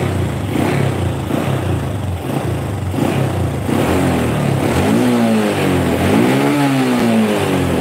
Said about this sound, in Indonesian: Ini motor masih enteng, nggak terlalu ngampos.